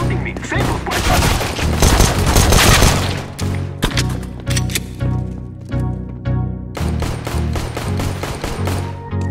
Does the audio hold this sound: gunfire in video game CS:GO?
yes